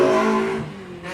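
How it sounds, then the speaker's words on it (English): A small Citroen rally car revs hard on a sprint course at Littleferry, Golspie, its engine screaming loudly and then falling away as it moves off. "Ewan's wringing the neck out of this wee Citroen."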